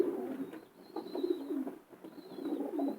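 A calm long-distance racing pigeon coos softly while held in the hand, with low repeated cooing phrases close by and faint high background tones.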